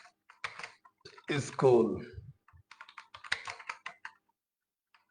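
Quick bursts of computer keyboard typing, close and crisp, with a short spoken word breaking in partway through.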